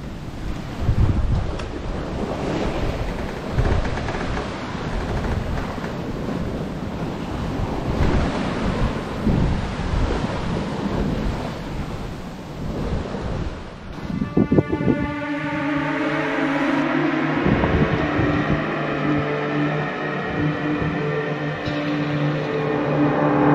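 Wind rising over the open Pacific during a long ocean sailing crossing, a broad roaring rush mixed with surf and microphone buffeting, joined partway through by a steady humming tone that carries on to the end.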